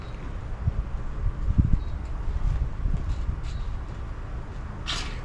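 Wind gusting outdoors around a small campfire being lit, a steady low rumble buffeting the microphone with brief stronger gusts and faint rustling.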